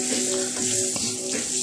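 Onions sizzle in a hot pot over high heat while cooking Louisiana gumbo, a steady close hiss of frying throughout with faint stirring.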